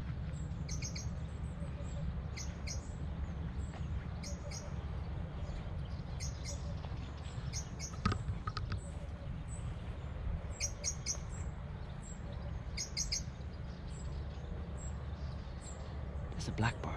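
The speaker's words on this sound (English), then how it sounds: "It's a blackbird." Bright, repeated bird song phrases from a blackbird ring out at a moderate distance over a steady outdoor rumble of wind and ambient noise, the chirps recurring every second or two throughout.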